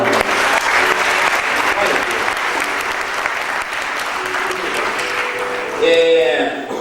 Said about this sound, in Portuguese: Você pode aplaudir o coral?